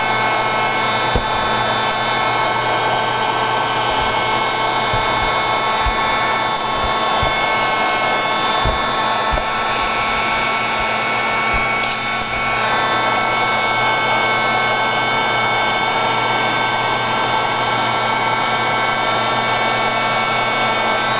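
A heat gun blows steadily while drying an image transfer coaster, a constant loud whirring hum and rush of air that runs unbroken throughout, with a few faint knocks.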